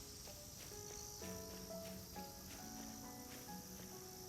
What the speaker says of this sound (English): The calls of the cicada get louder and louder as I'm surrounded by the trees